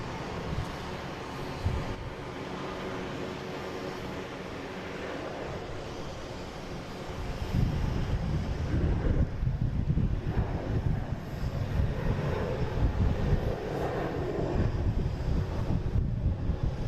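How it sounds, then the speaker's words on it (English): An Alaska Airlines Boeing 737-900 jet taking off, with wind buffeting the microphone at first and then a louder rumbling engine roar building in for the second half and holding steady. "we have Alaskan Airlines taking off. This will be heading to San Diego. 737, 900, flight 389."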